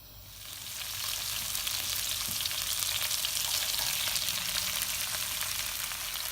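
Olive oil heating in a reused pan for Mumbai-style pav bhaji, sizzling and crackling steadily, close and loud, building in the first second and then holding an even hiss with no talking.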